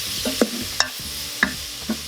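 Onions, tomatoes, salt and spices stirred in an Instant Pot, several close scraping strokes at irregular intervals over a faint sizzle.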